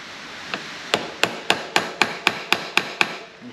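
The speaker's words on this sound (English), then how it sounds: "And ball peen hammer." Ball peen hammer striking metal while peening over a part on a Yamaha RD400 motorcycle: about nine sharp, evenly spaced taps, close and loud, with no talking.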